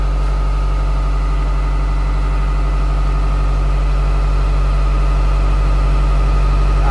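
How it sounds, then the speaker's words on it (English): Isuzu NPS truck engine running at a steady low drone, its revs held up with a constant heavy hum and mid-range rattle, loud and close with no voices. "Just ramping the RPM up."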